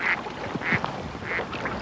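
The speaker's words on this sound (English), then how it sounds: "There's a pair. Big, fat glade ducks." Big, fat glade ducks quack in short repeated calls, about three clear bursts, close by in a salt-water lagoon setting.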